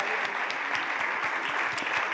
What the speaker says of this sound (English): So, round of applause for all the musicians.